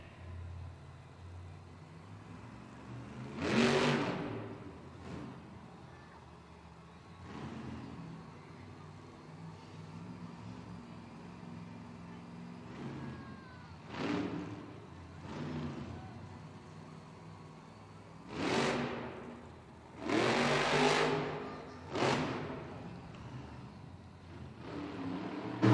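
The El Toro Loco monster truck's engine idles and rumbles in an indoor arena, broken by several loud revving bursts that swell and fade, over a steady background of crowd and hall noise.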